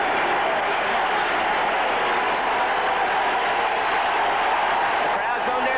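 Football stadium crowd roaring steadily at a 1987 San Francisco at Pittsburgh game, a dense, continuous wall of cheering and noise with faint commentary voices mixed underneath.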